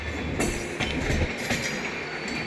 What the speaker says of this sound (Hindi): और ये सत्याग्रह एक्सप्रेस आनंद विहार रक्सौल, और इसका स्टॉपेज है गाजियाबाद पे